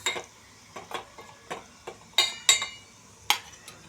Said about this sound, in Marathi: मिरची पावडर टाकायची थोडी. परत मस्त हलवून घ्यायचं.